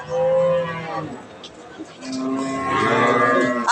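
Cattle lowing at a busy rural livestock market, where pregnant cows are sold, with drawn-out harmonic moos rising and falling over crowd voices and talk.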